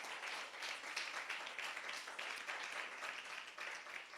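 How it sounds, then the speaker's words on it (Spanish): A church congregation applauds during a Spanish-language service, giving a steady, even wash of clapping from many hands that holds throughout, heard faintly and from a distance. "dile un fuerte aplauso al Señor"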